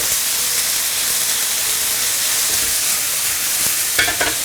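Blanched vegetables stir-fried in a wok with a little oil, ginger, garlic slices and small red and green tomatoes: steady loud sizzling hiss throughout, with a few sharper clatters of the spatula near the end.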